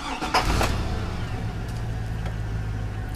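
Car with a blinking check engine light starting up, a brief cranking catch followed by a steady, loud idle rumble close by, with no voices.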